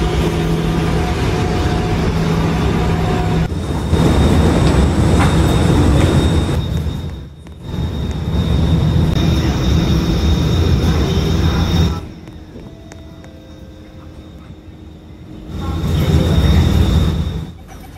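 An Alstom IL-Series R151 metro train in Roblox runs between Kembangan and Tanah Merah. It gives a loud, steady rumble with engine hum that fades and swells across several passes.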